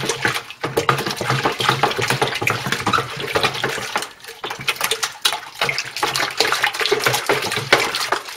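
Home-brew lager mixture being stirred while still lumpy, giving a steady, close swishing and sloshing of liquid that continues through the clip with small clinks from the vessel and no talking.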